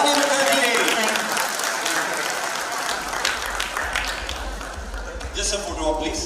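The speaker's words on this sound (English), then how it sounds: "big round of applause for Rani Mukerji" An audience at FICCI Frames 2024 applauds Rani Mukerji with a dense burst of clapping that fades into a lower crowd rumble, with voices mixed in.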